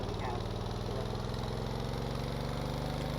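A small engine in the game Stormworks runs at a steady idle, a buzzing, rapid mechanical putter that holds constant throughout.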